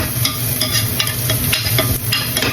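Garlic and onions sauté in a pan for chicken adobo, a steady close sizzle with scraping stirring strokes throughout, no voices.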